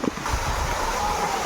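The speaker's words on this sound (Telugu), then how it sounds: "ఫ్రెండ్స్ చూశారు కదా ఎలా కనిపిస్తుందో వాటర్ ఫాల్స్" Waterfall in a tribal forest area, cascading outside the rainy season as a steady broadband rush of falling water, loud and continuous with no pauses.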